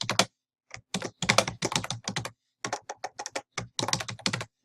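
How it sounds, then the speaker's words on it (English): A name typed on a computer keyboard, quick bursts of crisp close key clicks separated by short pauses, alone without talk. "and then you just type your name."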